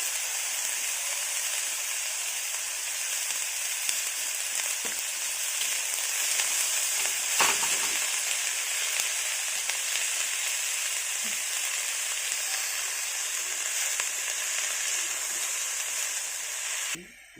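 Vegetables sizzle in a pan with a little salt for homemade chowmein, a steady close frying hiss lasting throughout, broken now and then by light stirring clicks.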